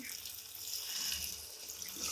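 Water poured into simmering palak kofta gravy in a pan, a faint, soft steady splash lasting a couple of seconds with no talking.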